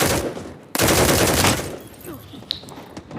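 Gunfire in the mobile shooter Battle Prime: a dense, loud volley of rapid shots bursts in close up, then thins into scattered single shots and clicks.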